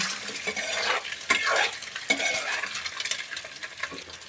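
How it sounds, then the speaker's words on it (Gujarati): Boiled eggs fry in a pan while being stirred continuously for a boiled egg curry, with a steady close sizzle and scraping of a utensil against the pan. "કેમ કે આપણે આને ફ્રાય કરવાના છે એટલે."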